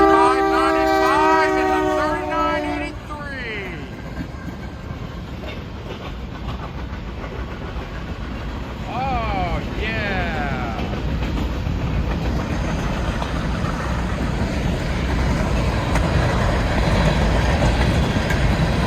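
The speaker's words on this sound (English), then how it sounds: "We're at Washington State to catch this BNSF train that is in our way." A BNSF grain train rolls past at Kennewick, Washington, opening with a loud horn blast, then a continuous close rumble and clatter of wagons that holds steady to the end, with faint squeals along the way.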